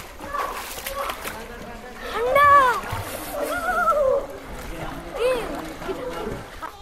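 Water splashes from people bathing and swimming at a beach on Havelock Island in the Andamans, with loud splashes rising and falling as voices chatter and shout nearby.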